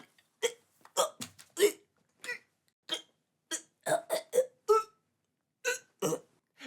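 A woman in an audio drama coughs and gasps in a series of short, sharp bursts, about a dozen separate hiccup-like spasms spread unevenly, close and fairly loud with silence between.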